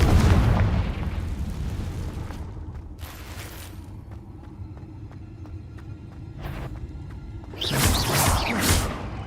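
Confringo blast spells exploding in Hogwarts Legacy combat, deep booming detonations with crackling bursts, loud at the start, fading, then another heavy blast near the end.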